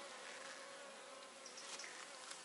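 Honeybees buzz in a hive box of eight frames during a beekeeper's inspection, a faint, continuous, dense hum without talking.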